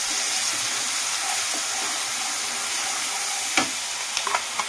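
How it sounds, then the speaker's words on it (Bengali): A paste of poppy seed, mustard, onion and green chili fries in a pan for a katla fish dish, hissing in a dense, even sizzle, with a few sharp spatula taps and scrapes toward the end. "এই পেস্টটা আমি দিয়ে দিলাম। এটা দিয়ে ফ্রাই করবো।"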